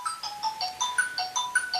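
A phone ringtone repeats a bright electronic melody of rapid, evenly spaced high tones, steady and moderately loud, with no talking over it.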